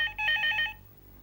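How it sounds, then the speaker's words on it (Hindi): A telephone rings indoors, one short electronic burst of chirping trills that stops abruptly and leaves near silence. "फोन उठा"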